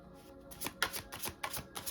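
Tarot cards being shuffled by hand, with a series of quick, crisp riffling bursts close by that repeat in an uneven rhythm with no voice over them.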